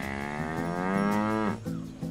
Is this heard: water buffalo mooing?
yes